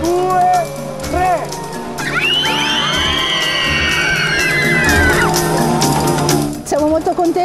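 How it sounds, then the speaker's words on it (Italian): Children shouting and screaming together at an outdoor Halloween party in the Bosco del Chignolo woods after a countdown. A loud, sustained wall of high voices with rising whoops and shrieks fills the whole stretch. "Voglio sentirvi gridare! Uno, due, tre!"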